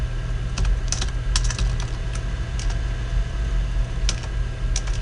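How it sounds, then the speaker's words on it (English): Someone types on a computer keyboard while entering AutoCAD commands, producing scattered bursts of close key clicks over a steady low hum. "if I type in redo"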